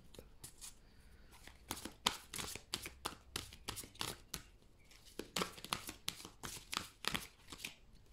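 A deck of tarot cards is shuffled repeatedly by hand with irregular bursts of riffling and flicking, close and fairly quiet, with no talking.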